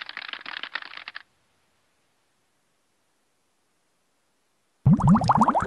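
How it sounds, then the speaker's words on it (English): Computer keyboard typing in a SpongeBob typing video game: about a second of rapid, dense keystroke clatter, then silence, then a voice starts at the end. "You are now ready to start typing."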